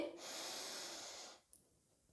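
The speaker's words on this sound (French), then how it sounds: "Inspirez profondément par le nez." One deep, airy inhale drawn through the nose, close and soft, lasting just over a second before fading into quiet as a relaxation exercise begins.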